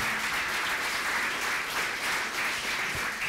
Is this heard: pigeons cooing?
no